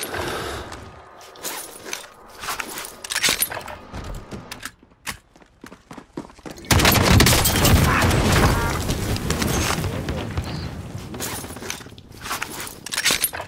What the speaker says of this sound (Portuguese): Quem tá atirando?